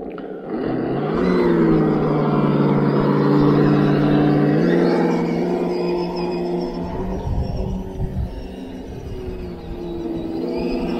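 An RGT Adventurer RC rock crawler fitted with an ESS1 engine sound module plays a steady, loud simulated engine drone that swells as it is throttled up, then settles into a rougher, fluctuating rumble, heard alone with no talk.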